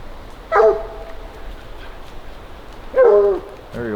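Hunting dogs at a bear bait site give two sharp, loud barks a few seconds apart, and a third bark starts at the end over a quiet outdoor background.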